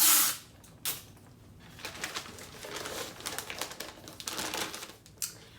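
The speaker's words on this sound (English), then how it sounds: "I'm gonna wrap this tissue box like I am wrapping a present." An empty tissue box is wrapped in wrapping paper at close range, with repeated crinkling and rustling of the paper and brief tapping handling noises, loudest at the start and in a few bursts later.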